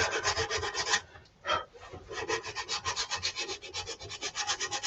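A wooden heart-shaped gift box on a lathe being sanded with a Roco sandpaper bit, making a loud, close, rhythmic rasping rub that pulses in quick repeated strokes and pauses once briefly, with no voices.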